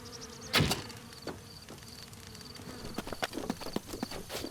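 Insects buzz in Zelda: Breath of the Wild, a thin whine broken by several sharp game clicks and thuds, with one loud hit near the start.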